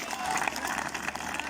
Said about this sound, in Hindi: तालियां बजाएं इन बच्चों के लिए, इन्होंने बहुत मेहनत की है